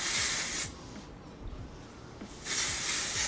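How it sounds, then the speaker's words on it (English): Two close bursts of texturizing hair spray from an aerosol can, one at the start and another near the end, separated by a quieter pause with faint handling noise. "And now we're gonna go in with the Texturizing Spray, and I just basically spray it like this."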